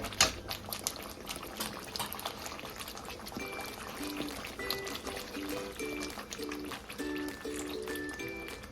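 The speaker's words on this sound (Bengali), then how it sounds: "এবার আমরা এর মধ্যে অ্যাড করে দেবো নারকেলের দুধ" Coconut milk poured into a Bengali-style prawn malai curry, a soft continuous liquid pour with gentle bubbling in the pan, moderately quiet and steady throughout, with light kitchen clatter and no talk.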